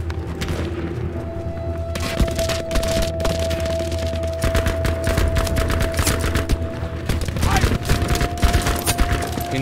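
Gunfire in the video game Battlefield V: dense, loud volleys of rapid shots and booms crackle almost continuously over a steady low rumble and a held tone, with a voice speaking intermittently.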